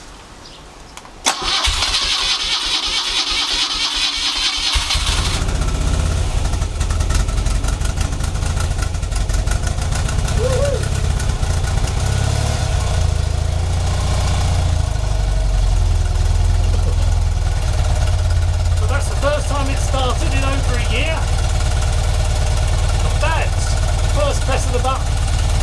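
A BMW R75/6 air-head boxer motorcycle cranks with full choke, fires after a few seconds of starter whirring, and settles into a steady lumpy idle. A voice talks faintly over the engine later on.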